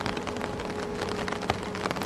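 Steady rain patters and hisses on a surface at night, an even wash of drops with no voices.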